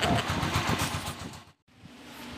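An uncle's motorcycle engine runs with a steady rumbling drone close by, cutting out briefly for a moment before the running sound resumes.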